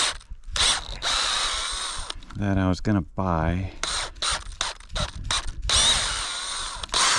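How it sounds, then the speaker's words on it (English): An old power drill bores a tap hole into a maple tree, its motor whirring and grinding in close bursts with brief stops, and someone speaks briefly between the drilling runs. "The old drill"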